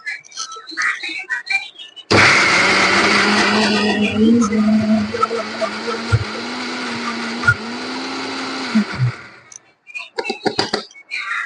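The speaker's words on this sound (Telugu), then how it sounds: "మిక్సీ జార్లో వేసాను కదండి మిక్సీ వేసుకుంటున్నాను ఇప్పుడు" A mixer grinder blends coriander and tomato chutney in its jar, a loud steady whirring drone that starts abruptly and runs for several seconds with small dips in pitch, then cuts off into quieter kitchen sounds.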